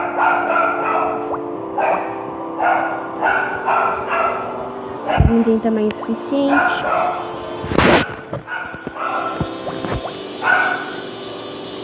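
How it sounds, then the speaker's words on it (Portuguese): Dogs bark in repeated short yips and bow-wows, some whimpering between, with a loud thump partway through and a person talking over the noise. "Meus cachorros não param de latir."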